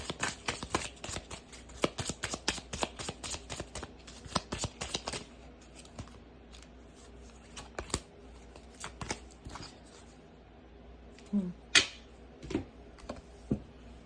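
A deck of herbal oracle cards is shuffled, giving rapid bursts of papery riffles and flicks for several seconds that thin out into sparser, isolated card taps and slides.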